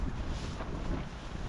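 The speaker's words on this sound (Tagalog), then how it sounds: "Sobrang lakas ng hangin, binabayo tayo ng malakas na hangin" Strong wind buffets the microphone on a mountain hilltop campsite in Mt. Province, a steady loud roar with gusty rumble throughout and no voices.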